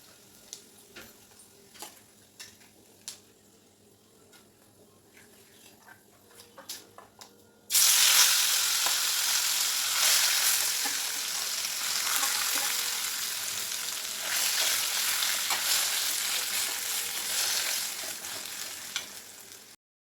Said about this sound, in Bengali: সর্ষের তেল দিয়ে তার মধ্যে গোটা শুকনো লঙ্কা দিয়েছি, আর দিয়েছি গোটা ধনে